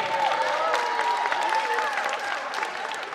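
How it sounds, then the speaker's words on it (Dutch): A crowd in a sports hall gives sustained applause for a korfball team at a Christmas tournament sports award ceremony, with dense, even clapping for about three seconds. "een groot applaus voor Dream Team"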